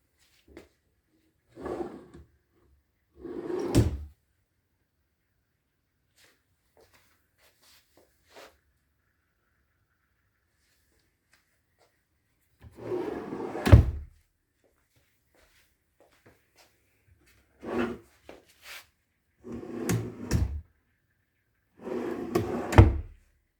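Drawers of a smoked-finish TV unit with an electric fireplace sliding open and shut, several separate bursts of bumps and thuds spaced by silence, close and fairly loud.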